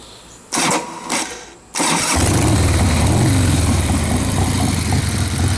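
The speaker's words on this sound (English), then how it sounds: "that's what you get into with a high compression motor. Sometimes it don't kick over on the first time" A high compression motorcycle engine is cranked with a couple of loud kicks before it catches and settles into a steady, close, rumbling idle.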